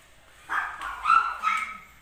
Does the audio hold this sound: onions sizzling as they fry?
no